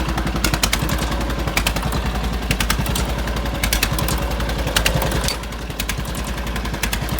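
A 1969 Economy Power King vintage tractor drives along, its small engine chugging loud and steady with a rapid rhythmic putter and mechanical clatter, dropping slightly in level near the end.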